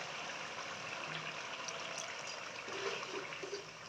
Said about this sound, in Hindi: अब इसमें हाफ कप के करीब हम पानी ऐड कर देंगे ताकि ये अंदर से कुक हो जाए